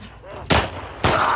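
Two sharp gunshots spaced about half a second apart in The Last of Us Part II, loud and punchy, alone apart from a faint background.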